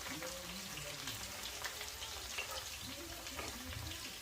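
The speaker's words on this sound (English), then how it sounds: "I'm just going to start stirring these around." Sausages frying in a pan are stirred around, producing a soft continuous sizzle and crackle with light scraping and a faint voice talking underneath, all fairly quiet.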